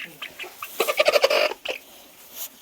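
A chicken clucks nearby in a short burst of rapid, rising calls, then a few quieter clucks trail off.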